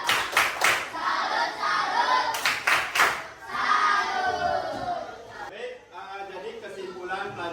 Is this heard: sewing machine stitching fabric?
no